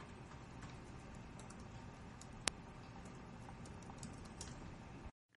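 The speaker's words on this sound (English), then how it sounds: "At the maximum value, the clicking sound goes off." An electronic speed control governor clicking as its setting is adjusted: a faint, rapid train of light ticks like keyboard tapping, with one sharp louder click in the middle, no talking.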